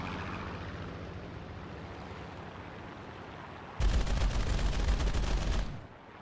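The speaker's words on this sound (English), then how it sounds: "I shouldn't have wasted so much of my cannon ammo right there" Aircraft cannon fire in War Thunder during an A6M5 Otsu versus Tempest dogfight: a loud, dense rapid burst lasting about two seconds, breaking in over steady engine drone and then cutting off.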